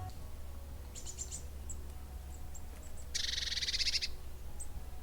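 Blue tit calling in a garden, faint high chips and a short rapid trilling burst over quiet low background noise.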